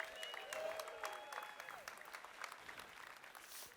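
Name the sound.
audience applause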